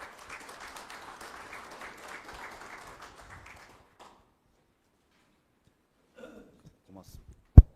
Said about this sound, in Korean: 우리 안현실 부총장님을 큰 박수로 맞아주시기 바랍니다.